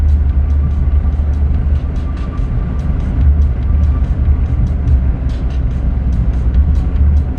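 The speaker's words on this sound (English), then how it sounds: "so I'll just give it some throttle manually." A car engine pulls under steady throttle up a mountain road near Palm Springs, a loud, constant low drone heard from inside the cabin, with faint light ticks and rattles above it and no talk.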